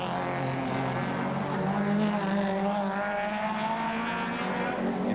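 Schnitzer BMW M3 E30 Sport Evo touring cars racing on the Wellington street circuit, engines holding a steady, loud, droning high-revving note with harmonic whine throughout, no voices.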